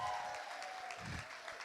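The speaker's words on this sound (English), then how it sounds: "I wanted to give a huge round of applause, please everyone" Applause from a wedding sangeet audience, a short burst of steady clapping heard alone and at moderate distance, with a faint murmur beneath.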